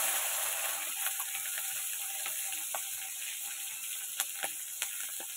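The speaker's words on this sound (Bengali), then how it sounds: "এগুলো একটু ভাজা হোক ফোড়নগুলো।" A tempering of dried red chilli and green chilli fries in oil, making a soft, steady sizzle with a few sharp pops and crackles near the end.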